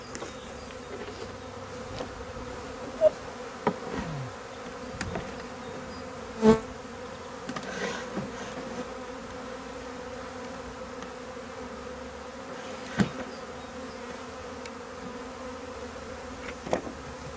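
A steady, low buzz of a honeybee swarm being captured into a hive hums throughout, with occasional louder bees zipping past close by; no voices.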